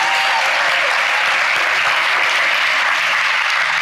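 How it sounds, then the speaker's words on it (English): Sustained applause from an audience at a library author event, dense steady clapping that fills the room without pause, loud and close with no talk over it. "let's give the staff here a round of applause."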